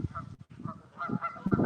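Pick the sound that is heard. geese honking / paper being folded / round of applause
geese honking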